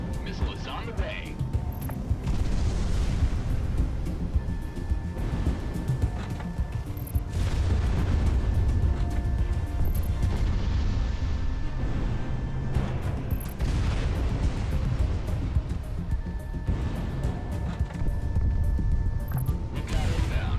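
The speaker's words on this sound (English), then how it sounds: "Fox 2, Fox 2. Missile is on the way." Missile launches and heavy explosions from fighter combat in the Project Wingman flight game, a dense run of booms and blasts over a constant roar, with radio voices talking on top.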